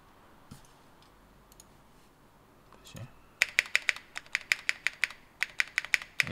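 Mechanical keyboard with tuned stabilizers: a few scattered soft clicks, then a quick run of crisp, evenly paced keystrokes, close and clear with no voice over it.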